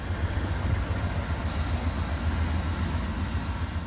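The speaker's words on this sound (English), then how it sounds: "Amtrak services across Missouri still ran with GE Genesis series locomotives, hauling a combination of Amfleet and Horizon-style passenger cars." Amtrak passenger train hauled by a GE Genesis locomotive with Amfleet and Horizon cars rolling past across central Missouri, a loud steady rumble and rail roar with a deep engine drone, holding constant throughout.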